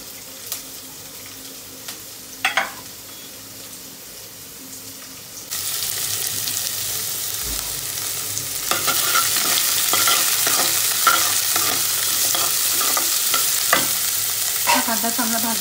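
Onion frying in oil in a pan for dhaba-style chana dal, at first faint with a few clinks, then a louder steady sizzle with repeated spoon scrapes and stirring.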